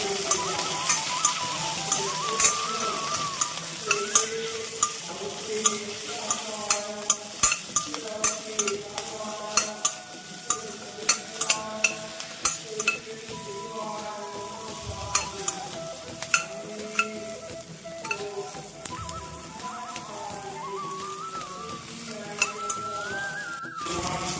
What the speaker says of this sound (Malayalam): വെണ്ടയ്ക്ക, പച്ചമുളക്, മുരിങ്ങയ്ക്ക, ഒരു 3 ഇട്ട് നല്ലപോലെ ഒന്ന് വഴറ്റുക.